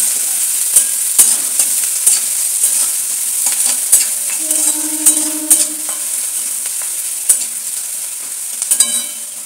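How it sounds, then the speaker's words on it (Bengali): Chopped onion frying in hot oil, a steady bright sizzle with scattered clinks and scrapes of stirring, plus a brief low tonal hum midway. "পেঁয়াজটাকে একটু ভেজে নেবো এবার।"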